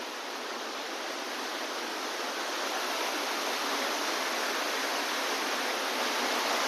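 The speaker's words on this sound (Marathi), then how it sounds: "एवढं जबरदस्त पाणी पडत की खूप म्हणजे खूप जबरदस्त धबधबा आहे" Waterfall behind the Mahadev temple at Lingdari, Chhatrapati Sambhajinagar, pouring heavily as a steady, loud, broadband roar of falling water heard close up and alone, without any change throughout.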